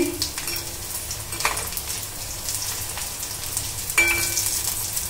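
Bread rolls fry in hot oil with a steady, soft sizzle and bubbling throughout. A few light clinks from a utensil or pan come in between.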